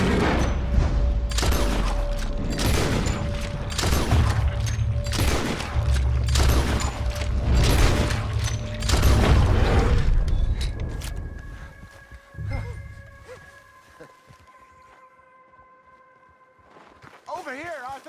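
Rapid volley of gunshots fired at a bear while hunting in a western video game, loud bursts over the first ten seconds amid shouting voices, then quieter ambience with a few later sounds.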